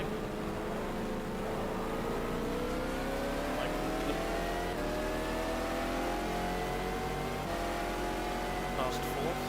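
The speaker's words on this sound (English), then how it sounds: "Yes, the Corvette pitting." A Corvette race car in the racing game GTR2 drones through the pits at Le Mans, its engine note holding a steady multi-tone hum that slowly rises, with a commentator talking over it throughout.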